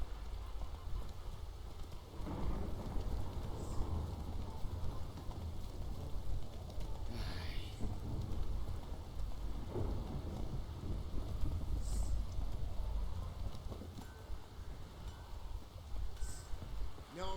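Ongoing rain in The Witcher 3 with low rumbling that may be distant thunder and wind, a constant quiet hiss broken by scattered brief higher sounds, no clear speech.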